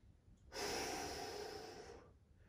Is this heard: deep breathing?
yes